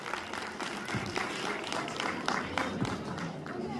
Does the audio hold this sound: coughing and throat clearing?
no